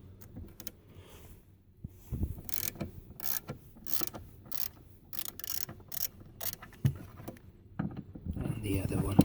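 Bolts on the rear trim of a VW Sharan being undone with an M10 12-sided spline bit, heard as close, irregular ratcheting clicks and mechanical rattles in quick bursts, with short pauses between them.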